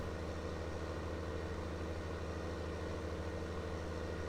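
A small Ford tractor idles in Farming Simulator 19 on a Missouri farm, giving a steady, low, even engine drone that stays constant throughout with no talking.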